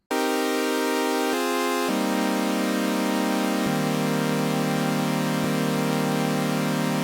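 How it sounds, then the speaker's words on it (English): A sustained organ-like chord progression, sped up, plays quickly, bright tones shifting to a new chord every second or two with no pauses. "let's listen to the chords and hear what it sounds like"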